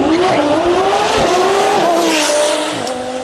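An Audi R8 drag car at a drag racing event roars down the strip in a single pass, a loud sustained engine note rising in pitch through the run, with crowd and track ambience behind it.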